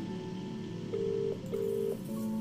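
Phone dialing in the video game Contradiction: a handful of sustained electronic tones, each lasting under half a second and sounding one after another over a steady background hum, with no talk.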